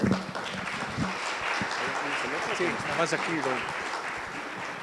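Steady crowd applause throughout an anniversary event in Pachuca, with a voice speaking over the clapping.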